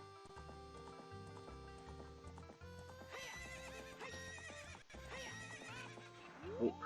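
A horse in The Legend of Zelda neighs and gallops with rhythmic clip-clop hoofbeats over game music, with a loud whinny near the end.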